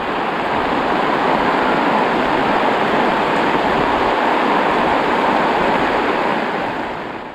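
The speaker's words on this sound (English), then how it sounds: "absolutely pouring down." Heavy rain pours down on a boat anchored in a bay, making a loud, continuous hiss and roar that barely changes, close to the listener, with some wind buffeting and no talk.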